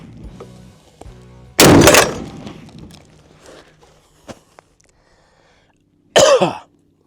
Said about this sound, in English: That is one of the most violently recoiling 50s I've ever fucking shot